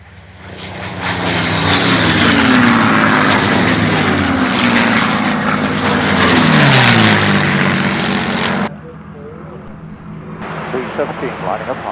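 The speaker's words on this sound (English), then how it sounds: "Next to last pass for Mustang." A P-51 Mustang propeller fighter makes a pass at the Duxford air show. Its loud engine roar swells, holds and sweeps in pitch as it goes by, then cuts to a much quieter background.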